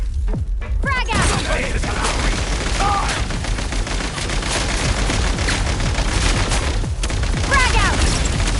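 Frag grenade blasts and crashing combat noise in a video game, dense and loud throughout, with rapid gunfire bursts and a few brief shouted voices mixed in.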